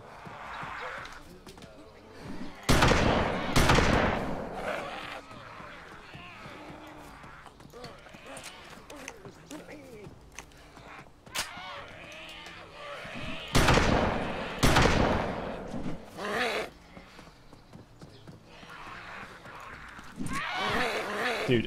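A shotgun fires at zombie hordes near a police station in DayZ: a few sharp, loud blasts come in pairs, with a long gap between the pairs, while someone talks throughout.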